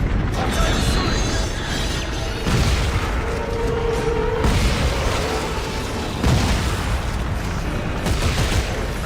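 A giant drill machine in Dead Space 3 grinds and clanks continuously, with heavy mechanical rumbling, ratcheting and booming impacts at a loud, steady level throughout.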